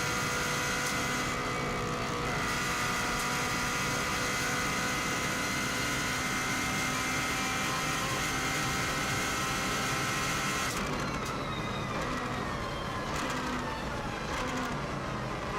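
A 2016 Subaru WRX STI engine pulls hard under power while driven flat out on the Isle of Man TT course, a loud, continuous in-car drone whose tone shifts late on.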